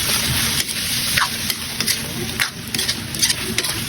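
Pancit canton noodles with chicken cube and crushed pepper being stirred in a pan, giving a run of quick scraping and tossing strokes over a constant close sizzle, with no voices.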